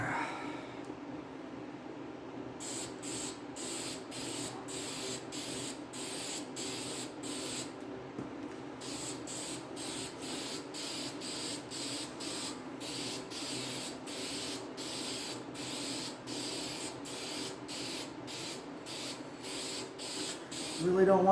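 Spray paint hissing onto a 1968 GTO timing cover in a medium wet coat, quick repeated bursts of close, loud spray in a steady rhythm, one longer pause midway.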